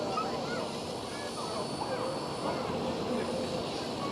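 A KLM CityHopper Embraer E175 takes off at Schiphol, a steady distant jet roar with broadband rush under a faint voice.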